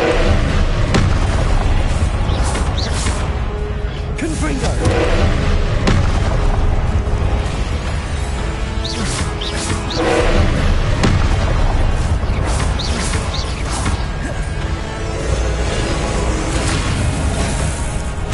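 Repeated booming Confringo spell explosions in the video game Hogwarts Legacy, loud and dense with rumbling bursts over a continuous battle din, with no talk.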